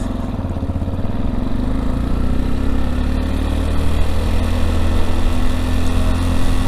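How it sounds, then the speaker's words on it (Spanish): An Italika V200 Adventure motorcycle engine revs steadily in first gear, a loud, close, continuous drone that holds a fairly even pitch throughout, with no voices. "Vámonos pues con primera a 5000 revoluciones"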